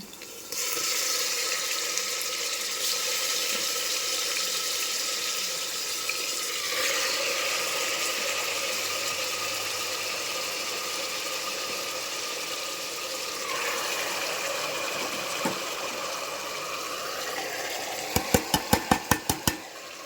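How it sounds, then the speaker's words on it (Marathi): Goat mutton dropped into a pan of fried ground spice masala, giving a steady, loud broadband sizzle that holds throughout, shifting slightly as the meat settles, with a few sharp clinks of a spoon or lid near the end. "आता चला मी मटण टाकून घेते."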